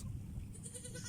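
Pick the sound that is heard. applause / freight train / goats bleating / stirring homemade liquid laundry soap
goats bleating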